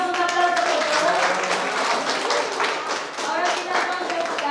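Students in a classroom applaud in a dense burst of clapping, mixed with chatter and voices, lasting the whole moment at close range.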